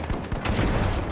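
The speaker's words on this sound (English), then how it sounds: "Frag grenade out." A frag grenade explodes in a video game, a short booming burst with rumbling debris in a brief, busy game soundscape.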